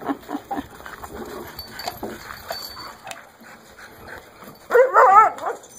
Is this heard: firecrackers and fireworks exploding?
no